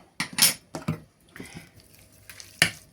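A spoon scrapes and clinks against a bowl as liver is stirred together with baking powder, a few sharp metallic taps and short scraping strokes, close and clear in a quiet kitchen.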